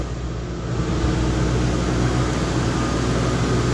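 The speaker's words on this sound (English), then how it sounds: "We should hear the compressor come on." Air ride suspension compressor on a Lincoln Town Car running steadily, a continuous low motor hum and whir that holds at even loudness throughout, with no talk.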